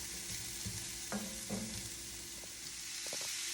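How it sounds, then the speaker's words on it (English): Uncased Italian sausage frying in a skillet with onions, garlic and red pepper flakes for skillet lasagna, giving a steady close hiss of sizzling with a few brief stirring scrapes and clinks. "we are just cooking that with the onions and garlic and roasted red pepper flakes"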